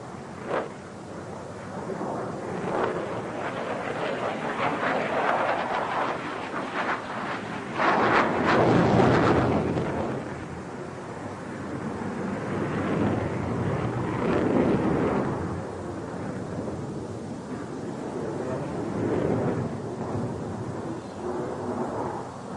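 A Sukhoi Su-27 fighter jet flown by test pilot Viktor Pugachev roars through a broad, sustained jet rumble that swells and fades as it passes, loudest mid-way, with no voices.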